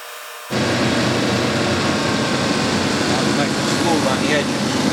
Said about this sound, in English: So we'll just put it on the sander.